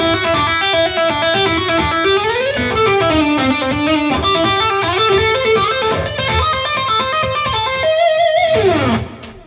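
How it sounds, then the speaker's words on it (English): Electric guitar tapping sequence, played slowly: rapid repeating note patterns climbing and falling, loud and continuous, ending on a sustained note that fades out. "let me put that whole tapping sequence together nice and slow"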